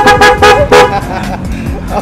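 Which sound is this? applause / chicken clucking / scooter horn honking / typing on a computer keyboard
scooter horn honking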